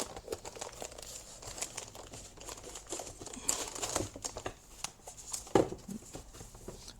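Plastic and cardboard packaging for a Gigabyte RTX 4060 Ti graphics card crinkles and rustles in short, uneven bursts at close range, with a sharper crackle near the end and no talking.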